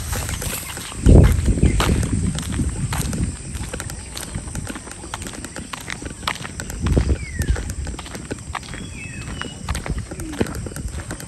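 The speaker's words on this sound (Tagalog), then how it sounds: "Nakaligo na yung mga kalabaw." Two water buffaloes (carabaos) walk and play, their hooves clopping and thudding irregularly at close range, with a few heavier knocks and thumps.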